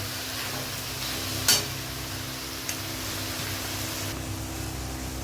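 Soft, steady frying hiss of ground soybean in a pan, with a couple of brief clinks of a utensil stirring.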